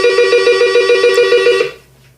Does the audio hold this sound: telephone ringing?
yes